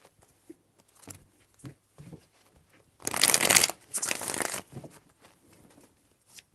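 Tarot cards are shuffled in one loud riffling burst of about a second and a half, set among soft scattered handling taps and rustles.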